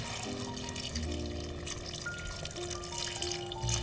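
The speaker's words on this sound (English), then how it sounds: "We send the sliced potatoes into the pan and fill it with water." Tap water running and pouring into a pan of sliced potatoes, a steady continuous splash and trickle heard close up with no talking.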